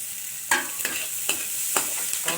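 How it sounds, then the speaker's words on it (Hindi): Paneer bhujia made from leftover buttermilk is stirred and fried in spice masala in a pan, a soft continuous sizzle broken by about five sharp scraping stirs at a steady pace. "हम इसको डाल देते हैं कि मसाला में भून लेते हैं।"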